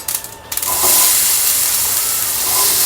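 Hot oil with popped mustard seeds bursts into a loud, steady sizzle as onions go in, a few light clicks first, then a dense hiss that holds to the end.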